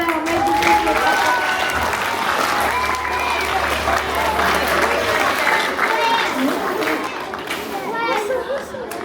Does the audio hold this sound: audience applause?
yes